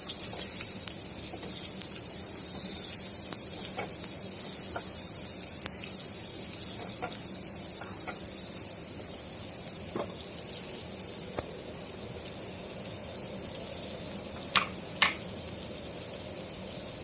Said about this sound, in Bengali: ডাল দিয়ে মশলা দিয়ে ভেজে নিব।